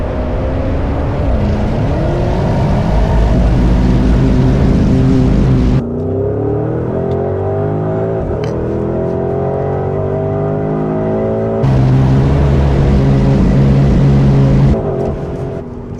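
A Porsche Cayenne Turbo GT, a powerful 4x4 on wide 315 rear tyres, accelerates hard with a loud close engine roar, rising and shifting through gears, with tyre noise under the engine and no talking.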